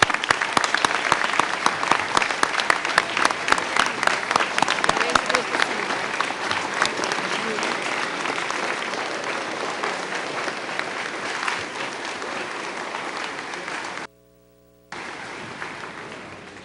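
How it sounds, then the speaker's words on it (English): Graduation audience applauding a final round for graduates joining the Army, a dense, loud wash of clapping that gradually thins and briefly cuts out near the end before resuming. "And one last round of applause for them."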